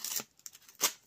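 Washi tape is peeled and torn off a scrapbooking advent calendar gift in two short, crisp ripping bursts, close and quiet, with faint rustles between them.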